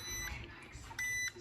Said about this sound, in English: And it is beeping, telling me my food is all done.